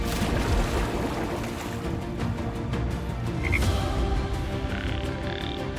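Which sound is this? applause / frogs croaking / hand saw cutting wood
frogs croaking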